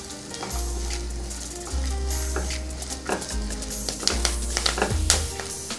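Chopped onions and green chilies fry in a pan, giving a steady close sizzle broken by scraping stirs and small crackles.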